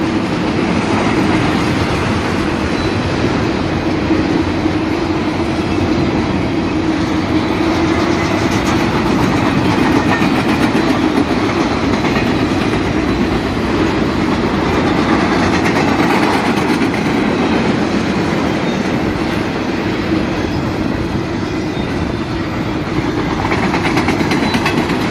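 A southbound BNSF freight train of empty flatcars and well cars rolls steadily past a Rosedale Highway crossing, with a loud, continuous rumble and wheel rattle that holds without a break.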